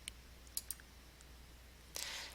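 A computer mouse gives a few faint, sharp clicks in a quiet room, followed by a soft rustle of noise.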